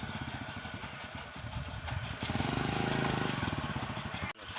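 A motorcycle engine runs close by, a steady putter that swells louder midway, then cuts off sharply before picking up again, with voices chatting faintly over it.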